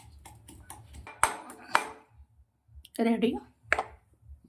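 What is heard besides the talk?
pounding dry garlic, green chillies and coriander in a mortar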